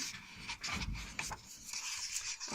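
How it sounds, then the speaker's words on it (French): Soft, irregular scratching and scraping sounds close by from a dog walking around a room, rising and falling in short bursts with no voices. "si vous entendez gratter, c'est mon chien qui se promène dans la pièce"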